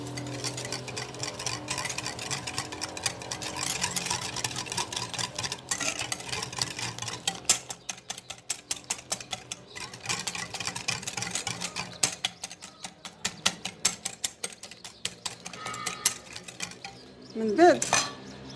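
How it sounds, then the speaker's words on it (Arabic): Cake ingredients are mixed in a bowl for a kiwi cake, producing rapid, rhythmic clinking and scraping strokes that pause briefly and then resume, ending with a louder clatter. "كنخلطوا المكونات"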